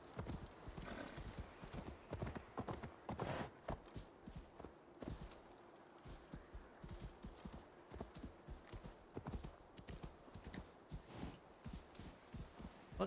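A horse in Assassin's Creed Valhalla, ridden across England, trots with steady, continuous clip-clopping hoofbeats, plus a whinny, all close and clear.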